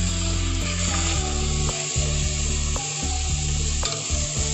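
Washed, drained rice stirred in hot ghee in a pan, a loud, continuous close sizzle with regular rhythmic scraping strokes of the spoon.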